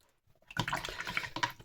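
A paintbrush swishes briefly in a small pot of water, rinsed between watercolour strokes while a Christmas card is painted, producing a short, close liquid splashing after a moment of near silence.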